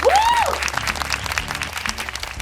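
Enthusiastic applause from a crowd of guests at a sweet seventeen birthday party, dense and loud clapping that fills the room, with a brief rising whistle or squeal at the start.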